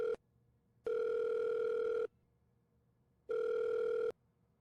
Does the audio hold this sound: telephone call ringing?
yes